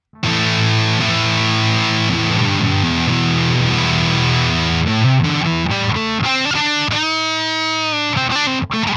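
Bass guitar played through a Warlow Fuzz Monstrosity fuzz pedal, giving a loud, woolly, gnarly distorted tone with sustained notes and then choppier phrases, ending in a sudden cut.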